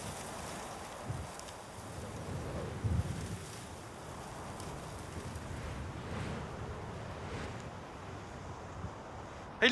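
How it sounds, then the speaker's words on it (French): Strong mountain wind roars and buffets the microphone in a steady, rushing wash, with gusts swelling and easing over several seconds and a brief louder rumble at the end. "le vent est tellement fort que les oiseaux n'arrivent quasiment plus à contrôler leur vol"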